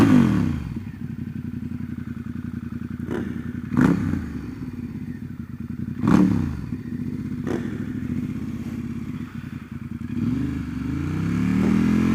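Triumph Rocket 3 motorcycle engine droning steadily close by, with sharp clattering thumps as gears shift, rising again toward the end.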